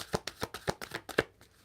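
A deck of playing cards shuffled by hand, a run of crisp riffling snaps and flutters close up, steady and fairly loud, with no talking.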